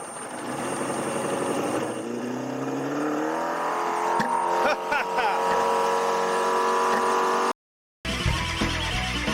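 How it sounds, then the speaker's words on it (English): A boat motor warming up drones and revs up close, its pitch rising steadily, with voices faintly underneath; it cuts out briefly before noise resumes. "we just had to get the boat motor warmed up here."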